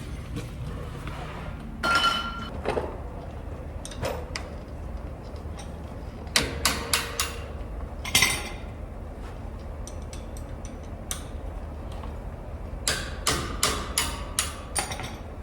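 Brake caliper bolts on a 2012-2018 Ram 5500 truck's front brakes are loosened with hand tools, giving scattered metallic clicks, clinks and ratcheting taps over a quiet background, close and fairly faint, with no talking.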